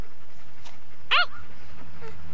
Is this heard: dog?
yes